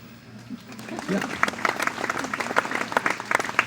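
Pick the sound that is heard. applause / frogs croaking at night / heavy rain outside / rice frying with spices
applause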